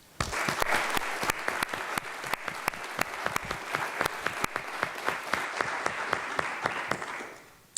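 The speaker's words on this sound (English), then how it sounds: "Please join me in a round of applause for George and Sandy Velasquez." A ceremony audience applauds at a university urology professorship event, a fairly quiet crowd of clapping with several sharp, distinct individual claps standing out over the steady patter, fading toward the end.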